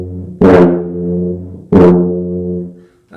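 A tuba sounds two low notes, each opening with an explosive, uncontrolled tongued burst of air before settling into a sustained buzzy tone, the pair loud and close with a short gap between them.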